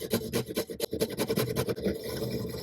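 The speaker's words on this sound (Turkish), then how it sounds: "Ben kıl testeresiyle yapacağım daha düzgün olması bakımından." Rapid rasping strokes of a fret saw cutting through a hard circuit board, a steady back-and-forth rhythm up close, with no talking.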